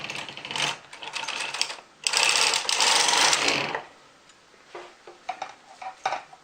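A knitting machine carriage is pushed across a full row with the tension dial set to 10, giving a loud, dense mechanical clatter and whirr that swells for a couple of seconds, followed by lighter intermittent clicks.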